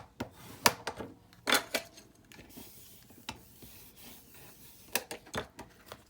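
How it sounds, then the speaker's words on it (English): Paper card stock is burnished by hand in quiet, scattered rubbing strokes. Sharp scraping swipes come in short clusters with near-silence between them. "we're gonna give that a good burnish"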